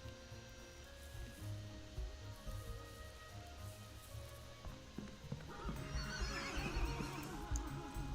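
Quiet horse whinnies and clip-clopping hooves from the video game Ranch of Rivershine, with a soft steady background. The hoofbeats grow a little busier toward the end.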